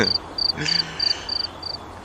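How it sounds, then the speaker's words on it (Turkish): Short bursts of game grasshopper chirping repeat at an even pace, fairly clear against a quiet background. "Daha fazla çekirge."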